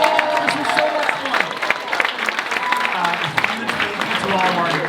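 Convention audience applauds panelists at a Halloween Horror Nights panel, a dense wash of clapping with crowd cheers, while a voice talks over it.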